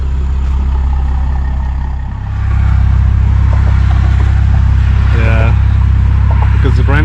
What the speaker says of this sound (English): now we're gonna take it for a test drive, and let's see the sound